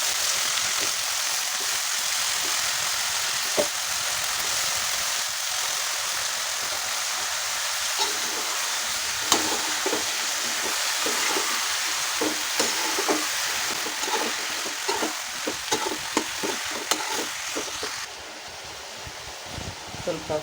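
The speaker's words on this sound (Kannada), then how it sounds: "ಈಗ ಬದನೆಕಾಯಿ ಹೋಳನ್ನು ಹಾಕ್ಕೊಳ್ತೀನಿ." Eggplant pieces and onion frying in a pan, a steady loud sizzle with occasional scraping and clatter of stirring, close and continuous throughout.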